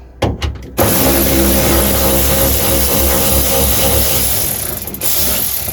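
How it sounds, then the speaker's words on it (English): Ratchet undoing 10mm and 12mm bolts under a car dashboard: a few sharp clicks, then a loud, sustained buzzing whir of rapid ratcheting that runs steadily close by to the end. "a series of 10mm bolts and a couple of 12mm bolts to undo to try and get the bottom half of this dash out"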